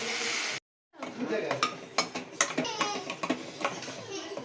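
Fried red chutney ingredients, coconut, tomato and tamarind among them, are scooped from a pan onto a plate, making clattering scrapes and clinks of a utensil against metal after a short silence.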